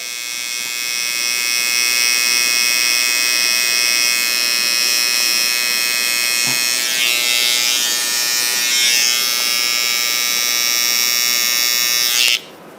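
Electric hair clipper buzzing steadily and loudly throughout a classic haircut, a continuous close hum with slight shifts in pitch as it moves through hair, then cutting off abruptly near the end.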